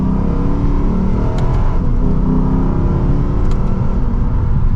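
Exhaust of a Lexus RC F Track Edition while driving on the road, a loud, steady engine drone with continuous rumble from inside the car, no talking.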